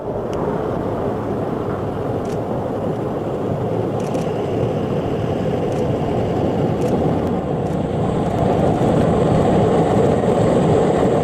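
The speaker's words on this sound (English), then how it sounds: "That's exactly what happens when a Euro truck is fitted for winter." Euro truck fitted for winter snow clearing gives off a loud, constant diesel roar with a broad rushing wash of noise, steady and close throughout, with no voices.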